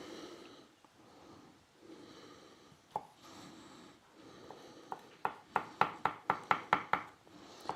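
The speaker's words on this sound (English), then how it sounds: "Oh, that was a terrible bit of chopping there." A knife chops vegetables into dice on a cutting board, first with soft scattered cuts, then a quick run of about ten sharp, evenly spaced chops close by.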